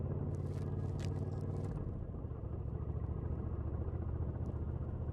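Suzuki Intruder VS 1400 cruiser motorcycle with its 1400 cc V-twin engine, a low steady rumble heard close and loud, with brief rattling noise early on and no talk.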